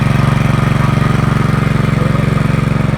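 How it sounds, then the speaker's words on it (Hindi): A tractor engine runs while the tractor is being driven, giving a loud, close, steady rhythmic chugging drone throughout. "ये देखो कि यहाँ पे हमारा नमन चला रहा है ट्रैक्टर"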